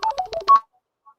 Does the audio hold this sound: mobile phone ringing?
yes